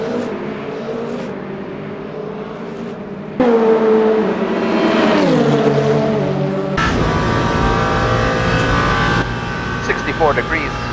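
The number 5 Penske Porsche race car in Le Mans Ultimate, racing the 24 Hours of Le Mans, its engine note climbing and dropping through gear changes, loud and close, with a sharp jump in intensity partway through.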